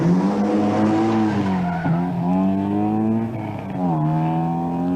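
A 1982 Circuit of Ireland rally car drives hard on a stage, its engine droning loud and close with a rising and falling pitch as it shifts and lifts, and tyres scrub and skid beneath it.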